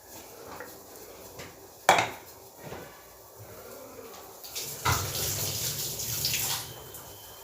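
Brewed tea water is poured into a blender jar for a hibiscus hair wash mix: a soft trickle and splashing stream with a few sharp knocks against the container, growing fuller and louder toward the end.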